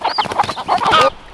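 A backyard mother hen clucking loudly and close, a busy run of overlapping clucks and squawks that cuts off abruptly, with no talk.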